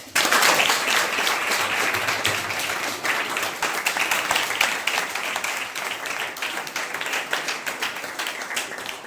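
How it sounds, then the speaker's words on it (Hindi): Schoolchildren applaud a quiz competition winner, a dense, loud, sustained clatter of many hands clapping that holds steady and then slowly thins. "सभी बच्चे ताली बजाएंगे।"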